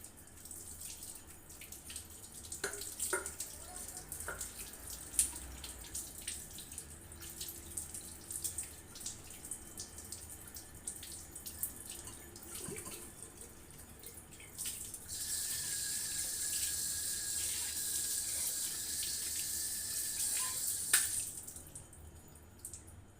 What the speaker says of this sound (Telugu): ఇప్పుడు కడిగి చూపిస్తాను మీకు